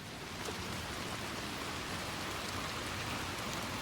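Steady rain in the video game Little Nightmares II, a continuous soft hiss of falling drops, even and unbroken throughout, with no voices over it.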